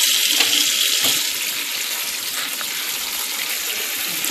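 Tap water runs steadily over black beans being rinsed in a sink, a close, loud, even gush that softens slightly after the first second.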